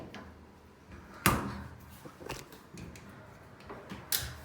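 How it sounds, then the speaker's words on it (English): White metal cabinet door in an apartment storage area opening and closing, with a few sharp knocks and clicks spaced over several seconds, one loud clack near the start and another near the end, fairly close. "The door opens and closes correctly."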